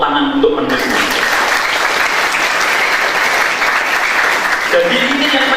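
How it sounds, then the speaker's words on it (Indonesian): An audience claps for the author at a book launch for a biography. The applause is dense and loud and carries on steadily throughout, with a voice faintly audible at the start and end. "tepuk tangan untuk penulisnya."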